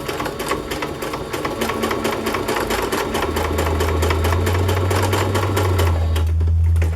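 A sewing machine stitches a wallpaper collage in a rapid, steady mechanical chatter, loud and close throughout, with a low motor hum rising in the second half and no talk.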